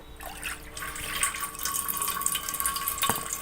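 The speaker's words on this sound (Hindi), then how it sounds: "बर्तन के अंदर आपने इस तरीके से कुकर की लिड के ऊपर पानी डाल देना है।" Water poured from above onto a pressure cooker lid set inside a pot, a steady splashing stream running continuously at close range with no talk.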